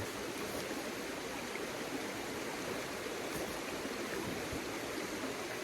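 Forest stream water flows steadily in Tioga State Forest, a continuous even rush with no talking.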